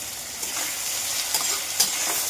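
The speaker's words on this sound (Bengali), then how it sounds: "এবার আমি পেঁয়াজটাকে ভাজছি, এর মধ্যে আমি আদা রসুনের পেস্ট আর লঙ্কা দিয়ে দিয়েছি" Onion frying with ginger-garlic paste and green chilli in a pan, with a close, steady sizzle broken by a few light stirring scrapes.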